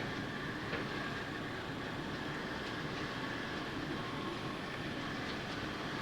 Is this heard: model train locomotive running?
yes